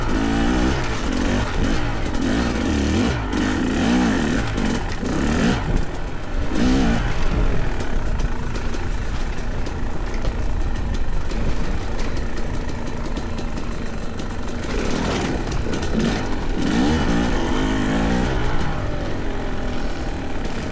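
Yamaha YZ250 or Fantic XE300 dirt bike engine revving continuously while riding in Colorado, a loud, steady buzzing two-stroke drone that rises and falls in pitch with throttle changes throughout.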